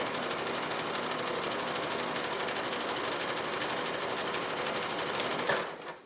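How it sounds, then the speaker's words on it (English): A sewing machine runs a small zigzag stitch through fleece with a continuous, even mechanical whirring and rapid needle chatter, steady throughout and close by, with no voices. "So I'm going to go with a smaller zigzag stitch, take a few, back stitch to secure it, continue stitching down"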